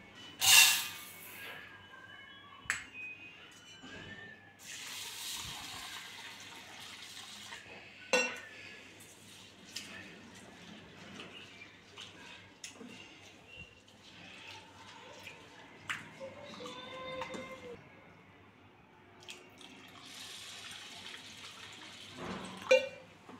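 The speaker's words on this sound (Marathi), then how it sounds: "मटकीची डाळ मी इथं 2 वेळेला व्यवस्थित धुवून घेतलेली आहे" Moth bean lentils are rinsed in water in a kitchen bowl, giving soft, intermittent swishes, drips and clinks of utensils, close but quiet, with no one speaking.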